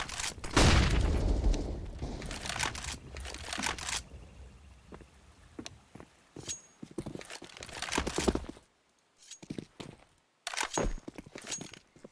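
Grenade, Molotov and flashbang detonations in the video game CS:GO, a burst of loud, dense explosive crackling and roaring up front, then scattered bangs, crackles and thuds through the rest, alone with no talking.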